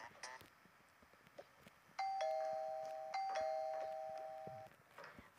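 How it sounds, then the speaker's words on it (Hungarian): A two-tone doorbell chime rings twice in the Toca Boca babysitter game, clear sustained ding-dong tones standing alone in the middle, with faint movement noises before and after. "Ó, valakik csengetnek."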